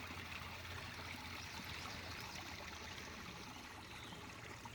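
Rainwater running down a hill into a full pond after heavy rain, a steady, even rushing trickle heard at a moderate distance and fairly faint, with no voices.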